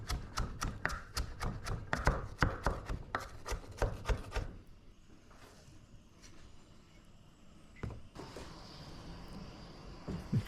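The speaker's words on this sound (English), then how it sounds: "We'll chop up some cilantro as well" A knife chops cilantro on a board in quick, even strokes for several seconds, then gives way to quieter handling noises and a few taps.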